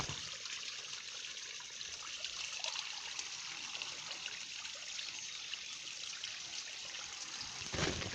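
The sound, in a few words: liquid being poured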